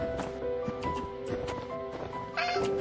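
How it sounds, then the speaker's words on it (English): A cat meows in the Outfoxed video game, with a few short cries among steady game music and ambient tones. "Meow."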